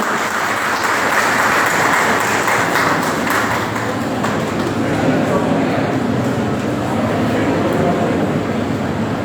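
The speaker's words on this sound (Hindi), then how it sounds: "तालियों के साथ में स्वागत कीजिएगा" Audience applause in an auditorium at a Teachers Day celebration at an Ayurvedic medical college, a dense, steady clapping that stays loud and continuous throughout, with no speech over it.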